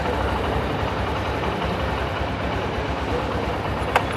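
Honda Shine 125 motorcycle engine running after a silent start, a steady low idle rumble held close and even throughout, with a brief faint click near the end.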